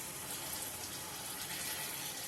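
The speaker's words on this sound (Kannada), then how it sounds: "ಇವಾಗ ಸ್ವಲ್ಪ ನೀರು ಹಾಕೊಳತ್ತೀನಿ." Water pours steadily into a pan of avalakki, a continuous soft gush of flowing liquid at close range that runs unbroken for the whole stretch.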